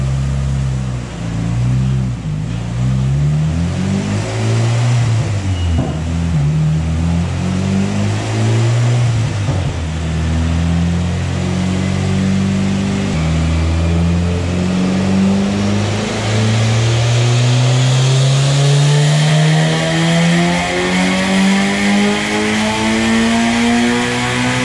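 A turbocharged Honda B16 VTEC engine in a Del Sol revs on a dyno, loud and close, its pitch climbing steadily through a long pull toward about 8,000 rpm, with a harsh, raspy top end.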